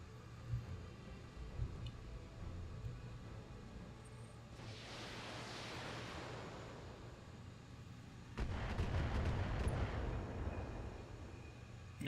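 Weapons fire on a tower in the mech video game Battletech, two heavy rushing blasts several seconds apart, the second louder and rumbling, over a low steady hum with no talking.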